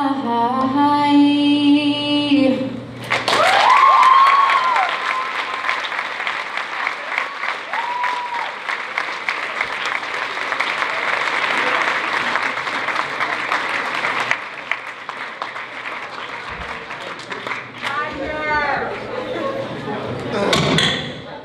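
Following a brief sung phrase, an audience breaks into long, loud applause for performers at a morning meeting, with scattered cheers and voices in the crowd before it dies down and talking resumes.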